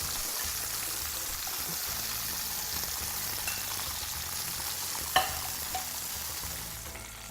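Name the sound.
mushrooms frying in olive oil in a pan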